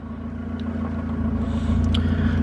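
Turbocharged D16 engine in a Honda Civic under way, a steady loud low rumble that swells slightly as it pulls, with brief faint higher whines near the end and no talk.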